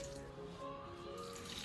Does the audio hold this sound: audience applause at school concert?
no